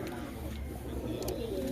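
Giribaz pigeon of an old Western line coos softly in a steady low murmur beneath a busy background hum, with a faint voice nearby.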